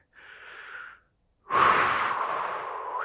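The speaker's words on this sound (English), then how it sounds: "Take a few deep breaths." Two deep breaths close to the mic, a shorter inhale followed by a pause and then a long, loud breathy exhale that fades slowly.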